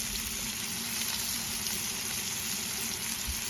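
Filet mignon sizzles on a flat top grill, a steady, even hiss that runs unbroken from start to finish at moderate volume.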